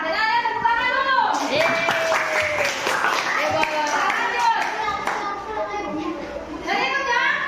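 Children clapping in a classroom during a group quiz activity, scattered hand claps mixed with excited young voices chattering and calling out throughout.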